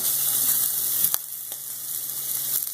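Shrimp sizzle steadily in a hot pan for vodka pasta, a dense close hiss with a few faint clicks from stirring and no voices.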